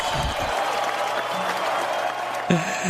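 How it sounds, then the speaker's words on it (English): A studio audience claps in a round of applause welcoming a guest onto a talk show, a steady dense patter lasting a few seconds with voices faintly underneath. "Give him a big round of applause."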